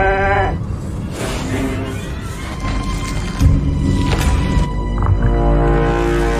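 A sheep bleats loudly near the start, with a wavering, nasal call over a dense, rumbling background of booms and thuds from a science-fiction scene.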